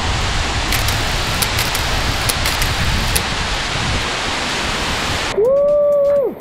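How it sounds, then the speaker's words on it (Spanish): A tall, powerful waterfall near Minca in Colombia's Sierra Nevada de Santa Marta roars as a steady, dense rush of falling water close by, with a brief whistling tone near the end. "La siguiente cascada es un poco más alta y tiene mucho más fuerza"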